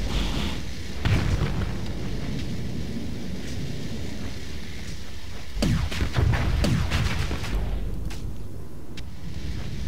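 A missile fires and explodes in the space combat game Starsector, heard as several rumbling, thunder-like booms over a steady low drone, with the heaviest blasts bunched together in the middle and no voices.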